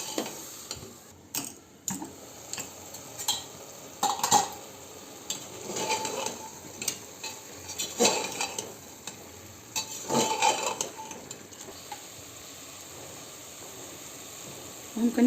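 Jackfruit coated in masala fries in a pan with a steady sizzle, broken by repeated scraping stirs of a spoon against the metal that come in irregular bursts, close and moderately loud.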